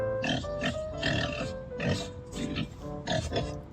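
Pig grunts at a campground in Pocheon, a rhythmic run of about six short, rough grunting bursts heard up close.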